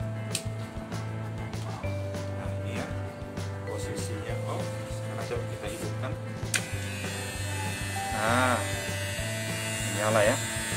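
A Happy King Proclipper HK-900 electric hair clipper hums steadily with a low motor drone, accompanied by handling clicks and a voice speaking briefly near the end.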